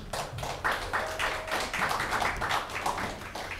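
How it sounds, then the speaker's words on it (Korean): An audience at a church anniversary worship service applauds to welcome a speaker to the front. The clapping is dense and steady for several seconds. "박수로 맞아주시면."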